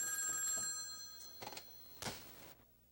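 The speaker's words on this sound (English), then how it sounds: "let the phone ring off the hook" A telephone bell rings faintly in a few short, separate bursts, then falls silent near the end.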